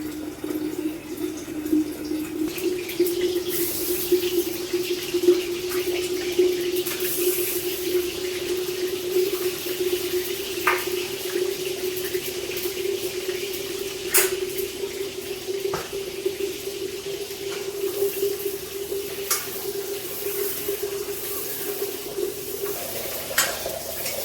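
Water flows steadily into a clay pot from a purifier tap, a continuous close trickle with a faint ringing tone, while kitchen stirring and sizzling clatter softly over it.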